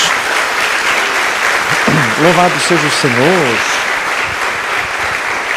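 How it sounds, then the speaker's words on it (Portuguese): A church congregation applauds in steady, dense clapping that fills the clip, while a voice calls out praise over it midway. "Dê uma salva de palmas a Jesus."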